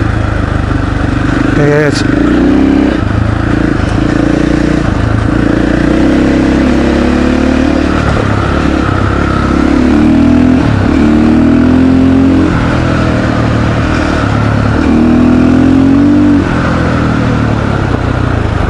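A KTM 500 EXC-F dirt bike engine running loud and close while riding, its revs rising and falling in surges throughout, with a rider's voice talking over it.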